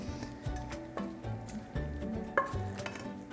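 A spinach, bacon and leek filling is stirred into a custard mixture for a quiche, giving soft wet squelching and scraping strokes in a steady rhythm, close up with a faint sizzling-like hiss.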